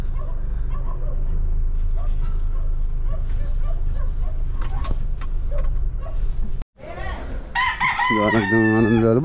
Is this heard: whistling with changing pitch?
no